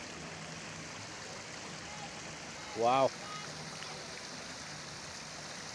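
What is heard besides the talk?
fountain pouring water into a lower pool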